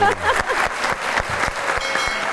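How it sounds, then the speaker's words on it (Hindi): Audience applause for the people of Mianwali at a talk show taping, steady dense clapping throughout with a few sharper individual claps standing out. "एक बार मियाँ वाली के लोगों के लिए तालियां होनी चाहिए"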